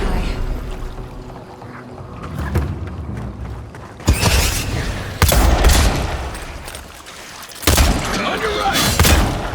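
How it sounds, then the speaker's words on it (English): Gunfire and combat in the video game Avowed, several loud bursts of shots and impacts over a rumbling, clattering battle bed, with a voice calling out amid the action. "Good shooting, Kai."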